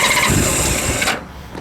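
A 1998 Honda Valkyrie motorcycle with a Mustang seat cranks and fires up, a loud close starter whine and catching engine that quickly settles to a lower idle.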